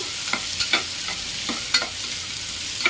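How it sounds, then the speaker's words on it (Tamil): Two finely chopped onions sauté in oil for a homemade mutton gravy, with a steady close sizzle broken by regular soft scrapes and taps from stirring. "வெங்காயம் ஒரு 2 வெங்காயம் பொடிசாக அரிஞ்சு வச்சுருக்கேன். இது அப்படியே போட்டுக்கோங்க. கொஞ்சம் வெங்காயம் நல்லா வதங்கட்டும்."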